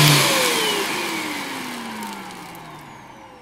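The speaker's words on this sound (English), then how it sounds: "the vacuum itself runs very, very quietly" Greenote corded stick vacuum cleaner winding down, a whirring motor tone that slides lower in pitch and fades steadily from loud to softer over a few seconds, no talking.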